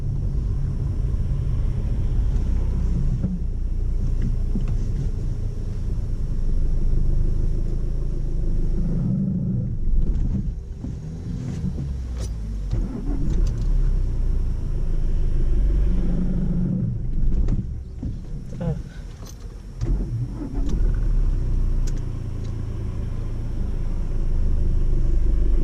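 A car engine idles and rumbles steadily in the cabin during a driving test, a continuous low drone that swells slightly at moments with faint shifting noises, and no voices heard.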